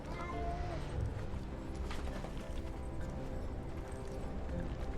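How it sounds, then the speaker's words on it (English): A horse's hooves clip-clop steadily in the video game Conan Exiles, a continuous dense rhythm mixed with other game sounds at a constant loud level. "I think it might be my horse or something."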